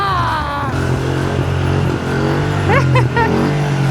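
A motorcycle engine drones steadily and loudly nearby, with a brief rise in revs toward the end as a stand-up wheelie is attempted, while faint voices sound under the noise.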